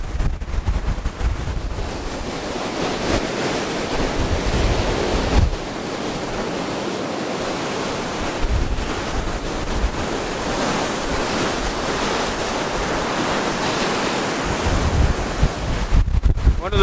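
Waves on Lake Nipigon wash and churn steadily after a thunderstorm, mixed with heavy wind buffeting the microphone, a constant loud rushing roar throughout.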